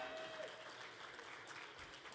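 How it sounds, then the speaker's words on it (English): An audience claps steadily at a luncheon, a continuous, fairly soft patter of many hands throughout with no pause. "Last item, I hear clapping."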